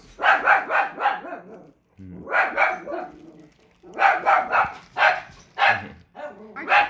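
Dog barking at other dogs passing by, repeated bursts of loud, close yaps and barks in irregular clusters with brief pauses between them.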